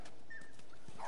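A dog whimpering in The Last of Us video game, a faint, brief high whine over quiet background sound.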